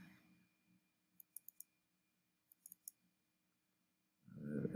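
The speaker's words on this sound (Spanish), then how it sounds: "le doy doble clic." Two quick mouse double clicks, each a pair of sharp, faint clicks about a second apart, made on a computer while working in a spreadsheet, with quiet room noise around them and a low rumble rising at the end.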